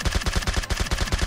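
Rapid automatic gunfire in the mobile battle royale game PUBG Mobile, a fast, evenly spaced burst of sharp shots rattling close and loud without pause.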